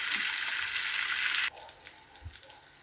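Loud steady sizzling of an eggplant omelette (tortang talong) with ground beef frying in a hot pan, then it drops sharply to a quieter crackle with a few soft clinks.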